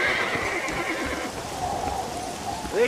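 A horse in the Red Dead Redemption video game whinnies loudly and close, with clip-clopping hooves and faint rain under the rising and falling neigh.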